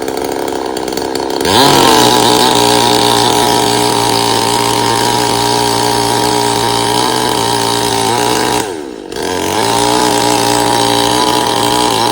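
A chainsaw runs loud and close while cutting a notch into a tree in a forest setting, its engine dropping briefly mid-cut before climbing again, with a steady buzzing whine and no talk.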